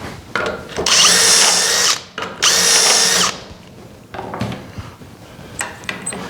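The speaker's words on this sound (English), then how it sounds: "And this time we're again drilling through 3 and 4." A power drill bores through wood while building a mitered rail top for a bedroom dresser, with two loud sustained whining bursts of about a second each, then quieter workshop handling noises.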